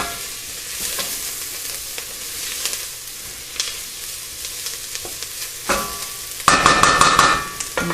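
Spices for a Moroccan soup roasting in a hot pan, a soft steady sizzle broken by intermittent scraping stirs, then a louder, brighter crackling burst near the end, close up and with no talking.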